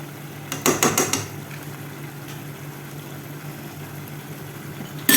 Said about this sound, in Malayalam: ചേർത്തെടുത്തിട്ട് നന്നായിട്ടൊന്ന് തന്നെ ഇളക്കി യോജിപ്പിച്ചെടുക്കുക